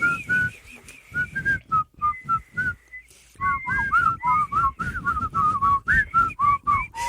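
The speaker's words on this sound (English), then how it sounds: "You were strongly whistling." Person whistling a lively tune, a string of short, clear, pitched notes in quick rhythm, close and fairly loud, with a brief pause partway through.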